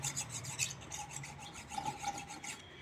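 Knife edge scraped against the rim of a bottle cap in a kitchen, a quiet gritty rasping in quick repeated strokes, close and alone.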